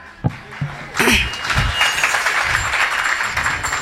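An audience at a kirtan bursts into applause: a few early claps swell into sustained, fairly loud clapping from a sizeable crowd, with faint chuckles mixed in.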